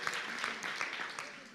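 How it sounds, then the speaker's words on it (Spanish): A church congregation claps together in a brief burst of applause, a dense steady patter of hands filling the room for under two seconds. "Dale un aplauso, ponte de pie y vamos a orar."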